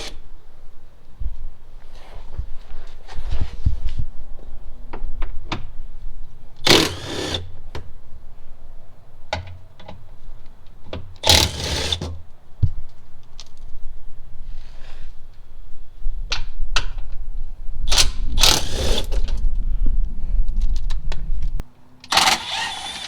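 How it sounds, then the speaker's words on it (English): Tools removing 10 mm bolts from the transmission pan of a 2013 Toyota Highlander, heard as several loud bursts of ratcheting or power-tool whirring separated by clanks, shuffling and handling noises, close up. "So let's go ahead, take these bolts out,"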